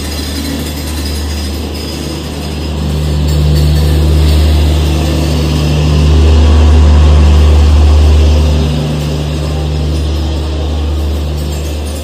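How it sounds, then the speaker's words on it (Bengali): Howrah Puri Shatabdi Express (12277) rolling into platform 17, a loud sustained rumble of wheels and carriages with swelling mechanical clatter and faint squeal, building in the middle and holding steady. "দেখো অলরেডি কিন্তু ট্রেন ঢুকতে শুরু করে দিয়েছে"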